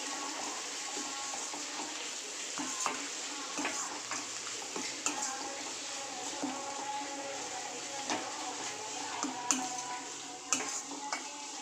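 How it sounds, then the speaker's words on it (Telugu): Stirring cumin and coriander powder into an egg and cashew curry in a pan, with a steady soft sizzle and occasional light scrapes and clinks of a spoon against the pan, heard close. "జీరా పౌడర్, ధనియా పౌడర్, ఇవన్నీ వేసుకుని ఒకసారి కలుపుకుందాము"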